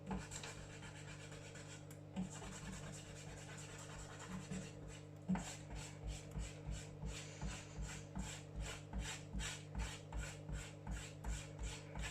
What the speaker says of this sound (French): il ne reste plus qu'à gommer